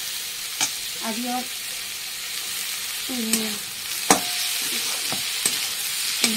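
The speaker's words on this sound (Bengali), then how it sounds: "আলু দিয়ে সুন্দর করে আমি আগে ভেজে নেবো।" Potatoes fry with turmeric in a pan for a Bengali fish curry, giving a steady sizzle broken by several scraping stirs and spatula knocks, close up, as someone speaks briefly.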